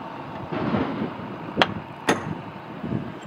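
A hammer drives a caulking iron to pack hemp into the seams of a wooden boat, with two sharp metallic strikes standing out above outdoor wind noise.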